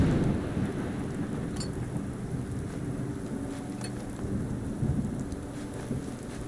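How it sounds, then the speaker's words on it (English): Steady rain with deep rumbling thunder in the video game Fallout London, a continuous heavy downpour under low rolling booms with a few sharp crackles, no voices. "Get out of the rain."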